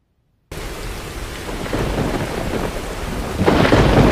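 Thunderstorm with heavy rain hissing steadily and deep thunder rumbling underneath, starting abruptly after a brief silence and swelling louder toward the end, with no voices.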